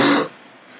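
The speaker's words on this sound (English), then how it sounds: "Stop coughing" A single loud, close cough bursts out at the start and quickly fades into quiet room noise.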